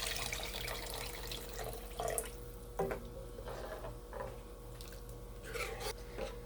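Spinach cooking water pours and splashes into a pot of curry in short bursts, moderately close, with some scraping in between and a steady low hum behind.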